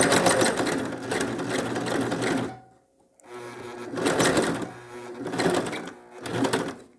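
Sewing machine stitching a straight skirt seam close to the fabric edge, running in loud steady bursts with a short pause between runs.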